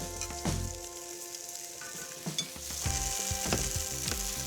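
Beef browns in oil in a stew pot, sizzling steadily up close while a utensil knocks and scrapes intermittently, with the frying growing louder toward the end.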